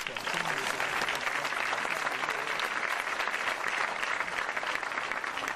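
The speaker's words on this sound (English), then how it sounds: "So let's clap it up in advance for you, the audience" A political debate audience applauds steadily and loudly throughout, dense clapping from many hands with no pauses.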